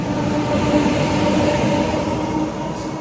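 A train in Taiwan rolls along with a loud, steady rumble and a whining hum that holds for the whole stretch and eases slightly at the end, with no voices.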